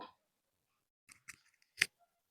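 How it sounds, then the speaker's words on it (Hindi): A few soft, brief clicks from a PowerPoint slide transition sound effect, scattered over about a second, with one sharper click standing out from the others. Faint and isolated against silence, with no talk. "ये देखिए हल्का सा क्लिक सुनाई दे रहा होगा आपको"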